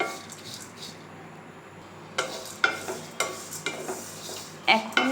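Flattened rice (chira) stirred in a hot pan, with a run of sharp spoon or spatula scrapes and clinks against the metal, close and moderately loud, over a faint background hiss.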